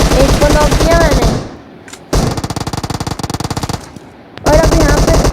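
Automatic gunfire in the mobile battle royale game PUBG Mobile, loud rapid bursts of shots in three sprays separated by brief quiet pauses, close and dominant.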